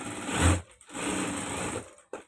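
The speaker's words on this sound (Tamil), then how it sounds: "2 சைடும் நம்ம தையல் போட்டு எடுத்துக்கலாம்." A sewing machine runs in close, loud bursts while stitching a shirt shoulder button, one burst, a short pause, then a longer steady run that breaks off near the end.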